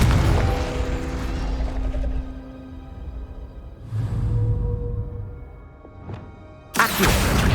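Confringo explosive spell blasts in Hogwarts Legacy: a loud whooshing burst at the start, another swelling blast midway, and a sharp bright detonation near the end, set over low rumbling game ambience.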